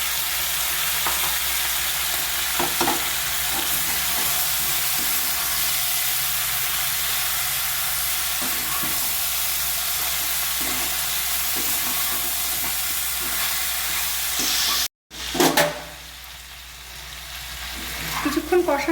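Chicken pieces coated in Kashmiri chili powder and salt sizzle loudly and steadily in hot oil in a pan, a dense continuous frying hiss with brief stirring scrapes, a short cutoff, then renewed sizzling.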